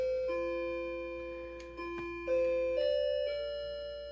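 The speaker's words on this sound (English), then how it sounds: "now it's warm enough where the doorbell is thawed out and it'll work again" A doorbell chimes a melodic sequence of sustained bell tones, several overlapping notes stepping in pitch, clear and alone with no talking.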